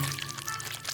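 Dirty water pouring in a steady, splashy stream, a continuous hissing gush lasting about a second.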